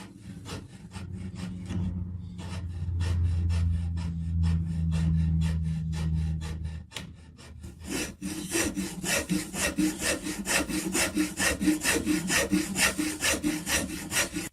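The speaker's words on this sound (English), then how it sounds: "The half round file is really good for working around the volute." A half round file rasps across the volute of a wooden guitar neck in steady, close, repeated strokes, slower at first and then faster and brighter, with no voices.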